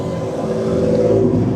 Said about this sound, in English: that M2 is deafening